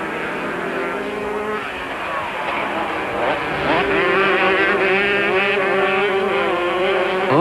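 Superbike racing motorcycles at full throttle during a 1997 race, with high-pitched engines wailing loudly and steadily and a second bike's note rising as it joins in.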